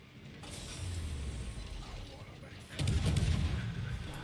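Asashio destroyer guns firing in the World of Warships naval battle game: a low mechanical rumble and clatter, then a louder burst of gunfire near the end.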